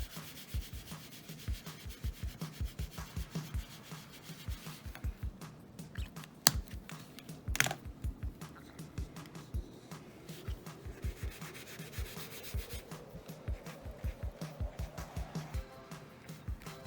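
A Kingart silver gel crayon rubs across paper, a close, dry scratching made of quick rhythmic strokes repeated steadily throughout, with a couple of sharper clicks along the way.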